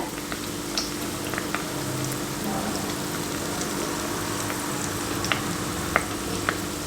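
Gulkand-filled gulab jamun balls fry in hot oil, giving a steady, close hiss with scattered small pops and crackles, no voices.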